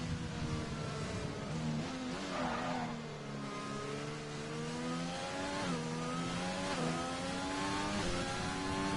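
A race car engine in an iRacing-style simulator race in the Netherlands accelerates through the gears, its loud, steady, tonal whine climbing and dropping with each shift throughout, with no talk.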